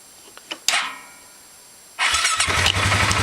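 Polaris Sportsman 570 ATV with a weak battery: a few faint clicks, a short cranking burst, a pause, then the engine catches and settles into a loud steady idle, close by.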